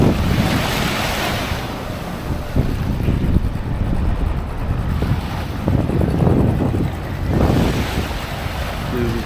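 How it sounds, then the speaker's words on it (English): Ocean waves roll in and break on the sand at Medano Beach in Cabo San Lucas, loud and close, with repeated surging washes and strong wind buffeting the microphone. "it may not look like big waves. These waves come in, it's coming up"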